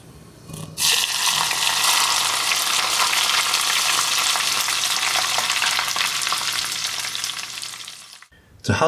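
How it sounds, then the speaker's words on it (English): Hot oil poured onto chili for chili oil sets off a loud, steady crackling sizzle that starts abruptly and runs for about seven seconds before cutting off, with no talking. "After you put hot oil on the chili, you get this sound."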